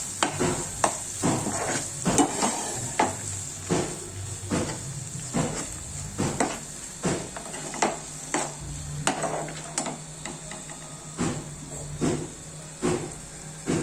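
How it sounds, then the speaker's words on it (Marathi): Sprouted beans (usal) being sautéed in a pan, with a steady series of scraping spatula strokes over a soft sizzle, close and moderately loud, no talking. "आता त्यात आपण उसळ घालू। आता चांगलं परतून घेऊ।"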